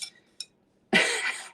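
Heavy plates being handled, with two faint light clinks followed by a louder, longer ceramic scrape and clatter close by.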